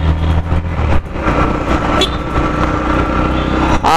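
Yamaha FZ-X motorcycle engine revving under throttle and through gear shifts, a close, loud, rough exhaust note that rises and falls across a few seconds.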